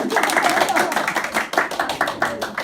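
Rhythmic hand clapping from a small group at a family birthday gathering, loud and close, with lively voices and cheering over the steady beat.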